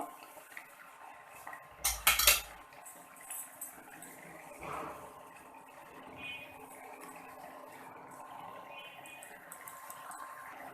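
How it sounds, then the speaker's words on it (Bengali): A lid lifts off a pot of simmering hilsa fish and jackfruit curry with a brief metallic clatter and clink, followed by a quieter kitchen background with a low bubbling hum. "এখন ঢাকনাটা তুলব"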